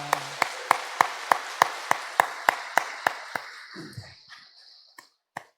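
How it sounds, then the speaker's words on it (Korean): A church congregation at Sunday worship claps in unison to glorify God, about a dozen sharp, evenly spaced claps that gradually fade out, with one last stray clap after a brief pause. "우리 하나님께 영광의 박수 올려드립니다."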